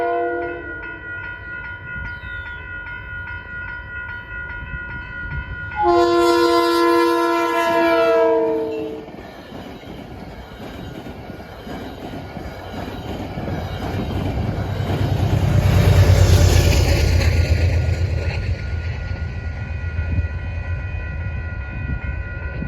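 A Metro-North train running from Grand Central to Poughkeepsie passes close by along the Hudson River, sounding a loud multi-tone horn early on, then a swelling rumble and clatter of wheels that peaks and fades.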